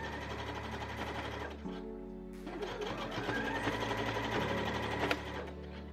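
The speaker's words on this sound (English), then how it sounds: "So now we're just gonna sew this all together." A sewing machine stitching ruffles onto a dress bodice, running steadily and close with a continuous rapid mechanical hum that shifts speed partway through.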